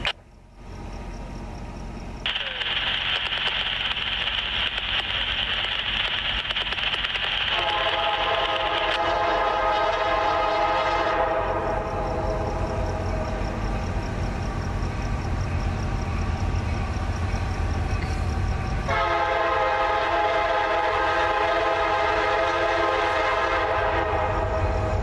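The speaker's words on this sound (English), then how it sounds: "CSX 4810 northbound." A CSX freight train led by locomotive 4810 passes northbound at Folkston, its horn blaring in long loud blasts over the steady rumble and clatter of the railcars close by.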